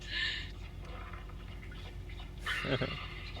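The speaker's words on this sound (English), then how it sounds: "I did fart, but the sound you heard was my fart mixed with the sound of our dog gulping water" A fart blends with a dog gulping water, forming a short wet burst of gulping and sputtering that stands out from a quiet indoor background.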